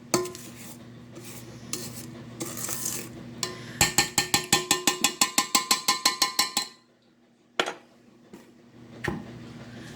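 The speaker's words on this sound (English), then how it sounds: "Now we're going to take just a moment to scrape down the sides." A utensil scrapes around the sides of a metal mixing bowl of edible cookie dough dip, with scattered scrapes and then a quick, steady run of about a dozen sharp, close clinks before it stops.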